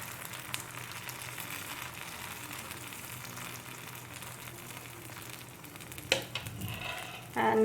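A banana and oats galette mixture sizzles softly in a pan over a medium flame, a steady faint frying hiss with a few small clatters near the end.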